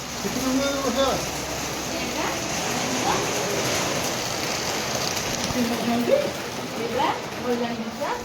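Rain falling at a house, a steady close hiss of water that runs through the whole stretch beneath people talking.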